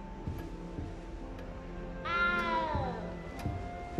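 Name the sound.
cat meowing in the video game Hogwarts Legacy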